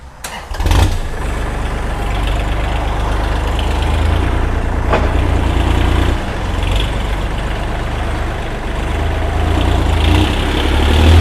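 A used Kubota L4018 three-cylinder farm tractor whose diesel engine starts and then settles into a steady, loud, close idle, with a few clanks, and no one speaking.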